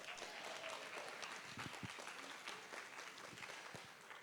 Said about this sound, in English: How about a great round of applause for our project manager, Lisa Maychuk.